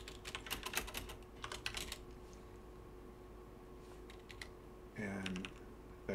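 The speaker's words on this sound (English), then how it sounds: "You can actually type in code or whatever" Computer keyboard typing in bursts of quick, close key clicks, pausing in between, with a short louder flurry near the end over a faint background hum.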